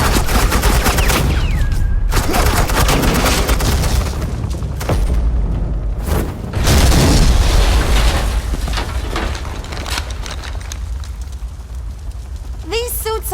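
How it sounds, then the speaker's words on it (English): Suppressing gunfire in the Batman: The Enemy Within video game, loud sustained automatic bursts and booming shots rattling almost continuously, with a brief lull partway through. "I said suppressing fire!"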